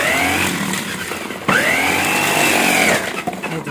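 A SOKANY 6-in-1 electric food chopper whirs loudly and steadily while cutting vegetables, its motor pitch rising briefly midway before settling and sputtering toward the end.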